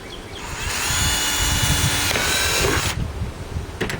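A power drill whines steadily for a few seconds while boring, then cuts out, leaving faint rustling and handling noise.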